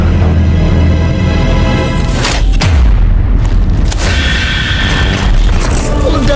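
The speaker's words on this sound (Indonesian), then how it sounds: "Ledakan, kekacauan, kebakaran." Deep booming explosions with rumbling debris burst through a dramatic Mobile Legends animation, loud and close, while a narrator's voice runs over and between the blasts.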